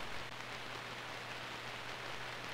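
Steady pouring rain outside a bar in the Dreamweb video game, a dense, even hiss of downpour that stays constant and fairly faint, with no voices over it.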